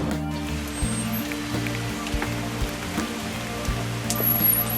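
Steady patter of early-morning rain falling in a garden, soft and continuous, with the faint hum of a plane flying overhead and no voices.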